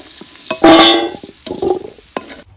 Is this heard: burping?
no